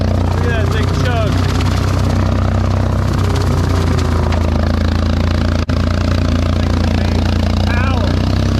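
A tractor engine chugs loudly and steadily while a brush hog cuts hay, a constant heavy drone running throughout with a brief dropout near the end; voices can be heard over it.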